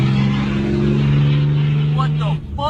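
A Duramax diesel pickup engine holds a steady loud drone with a strong low hum, then briefly dips and changes pitch near the end as someone speaks over it.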